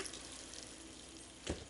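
Water poured into a protein shake mix infused with a drop of cinnamon bark essential oil, heard as a faint, steady wash of liquid noise that ends in a brief louder splash near the close.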